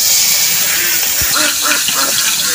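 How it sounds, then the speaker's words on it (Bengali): Taki fish fries in mustard oil with a loud, continuous hissing sizzle, close up, with small bubbling crackles throughout. "সরষের তেল দিয়ে টাকি মাছ ভেজে নেব।"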